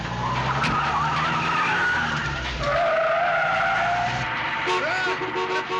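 A car pulls away fast with tires squealing and skidding in a loud, continuous burst, the engine roaring and the squeal rising and sliding in pitch throughout.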